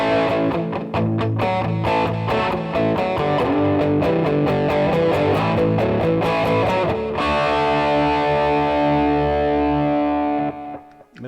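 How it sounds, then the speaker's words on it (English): Electric guitar played through a hand-built BK Butler Tube Driver clone pedal with its distortion turned down, loud strummed and picked chords in a rhythmic pattern, then a final chord left ringing until it fades out. "now I'm going to take the distortion and turn it"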